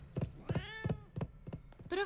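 A cat meows a few times among regular soft thumps, with a final higher meow at the end, all fairly quiet and close.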